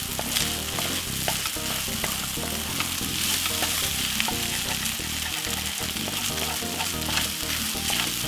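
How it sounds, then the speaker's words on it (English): Mushroom egg fried rice is stir-fried in a pan with a loud, continuous sizzle. Scraping stirring strokes run over it steadily and closely, with no talk. "All you need to do is have egg and simple stir fry up some rice like this."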